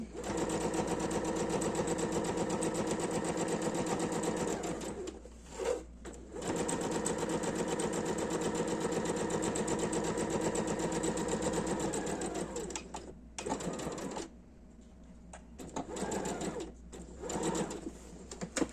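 A sewing machine stitches a fabric makeup bag in long steady runs of rapid mechanical whirring, close and loud, broken by short pauses and a few quieter handling sounds between bursts.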